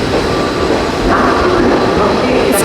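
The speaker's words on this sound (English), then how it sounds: "The train's coming. It looks like a robot." The Japanese local train Revaty Aizu arrives, a loud, steady rumble and hum of railcars with a rising tone partway through and a brief squeal near the end.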